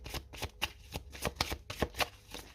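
Oracle cards are shuffled in quick, light riffling bursts, a dozen or so soft papery snaps in an uneven rhythm, close but quiet, with no talking.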